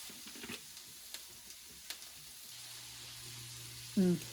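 Onions and peppers cooking in pork fat in a pan give a quiet, steady sizzle with a few light clicks of a utensil, ending in a brief louder clatter.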